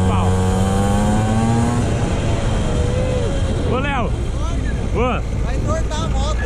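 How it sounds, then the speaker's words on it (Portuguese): A new mini motorbike's small engine runs steadily and loudly close by throughout, with a couple of rising revs partway through. "Essa mini moto nova aqui corre demais"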